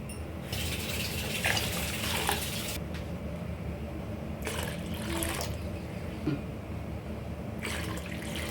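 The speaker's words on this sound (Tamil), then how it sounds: "இதில் கொஞ்சம் தண்ணி ஊற்றிக்கலாம்" Water poured in bursts into a cooking pot for tomato rasam, a rushing splashy stream starting and stopping several times over a steady background hiss.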